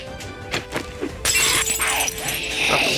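Glass shatters in the survival game 7 Days to Die, a loud bright crash that bursts in after a few muffled impacts and lingers as a spray of tinkling shards across the rest of the moment.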